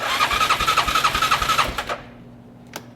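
A Bennche 500 ATV engine with a faulty O2 sensor and a knocking, smoking motor cranks with a rapid, rhythmic chugging for about two seconds, then falls silent apart from a single faint click.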